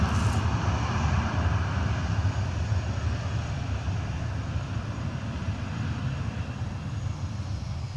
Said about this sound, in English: listen to this noise real quick. It's a plane taking off.